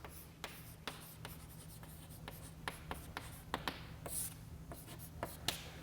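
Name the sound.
writing on a board during a lecture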